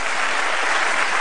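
Studio audience applause on an Indonesian television talk show, a dense, continuous wash of clapping heard alone and fairly loud for a brief moment.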